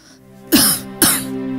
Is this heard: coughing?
yes